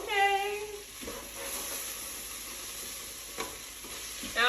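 A whole jalapeno with its seeds tossed into vegetables already frying in a pan, giving a steady close sizzle with stirring scrapes and a brief louder burst at the start and end.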